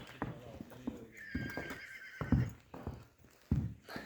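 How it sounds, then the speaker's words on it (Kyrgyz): A Kyrgyz karabair horse gives a clear whinny while its hooves clip-clop in a few uneven steps, close by, with a person speaking briefly alongside. "Плотный жылкы экен."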